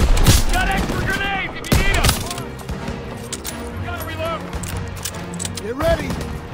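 Dense World War II gunfire from Call of Duty WW2, bursts of rifle and machine-gun shots crackling continuously alongside booming impacts, with soldiers shouting orders over the battle throughout.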